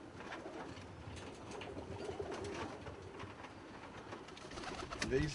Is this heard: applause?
no